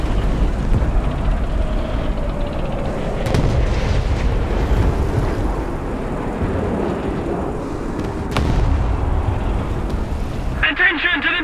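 Heavy booming artillery explosions in War Thunder tank combat, a dense continuous rumble of blasts with sharper bursts near the middle and end, mixed under game radio voices.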